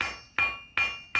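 Hot metal hook tip struck with a hammer on an anvil during forging, three sharp ringing blows at an even pace, each decaying quickly, close and alone.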